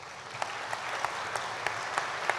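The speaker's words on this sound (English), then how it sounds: "If we could have a round of applause for them," A seated audience at a senior citizens hall of fame induction ceremony gives sustained applause, an even wash of clapping with regular louder claps from someone nearby standing out above it.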